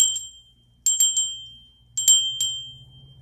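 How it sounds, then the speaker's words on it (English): A small bell is rung in two clusters of three or four bright, clear strikes, each ringing briefly and decaying, close and alone in an otherwise quiet room. "let me ring the bell here"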